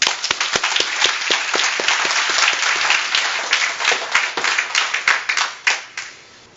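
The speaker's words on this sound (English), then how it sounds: "So please join me in giving a warm welcome to your 2019 Outstanding Economic Educator for the state of Virginia, Andrea Nalli." Audience applause welcoming the 2019 Outstanding Economic Educator for Virginia at an awards presentation: steady, dense clapping from a sizeable crowd, holding strong before thinning into scattered claps at the end.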